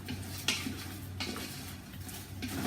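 Garlic shrimp and crab with pepper are stirred in a pan, with a few scraping clinks of a utensil against the metal over a soft steady sizzle, close and fairly quiet.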